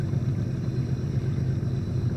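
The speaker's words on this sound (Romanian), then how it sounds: "Acum e motorul." An outboard boat motor runs steadily on a jungle river in Ecuador, a continuous low rumbling drone that stays close and even with no talking over it.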